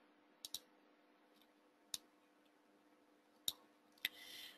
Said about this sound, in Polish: Na górnym interfejsie klikamy prawym klawiszem myszy